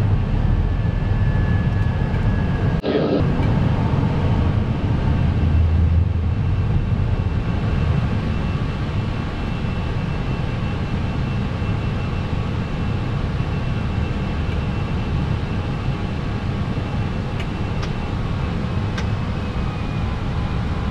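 An Airbus A320 taking off and climbing out of Kassel toward Tenerife, heard from the cockpit: a loud, steady engine roar and airflow with faint whining tones, no talking.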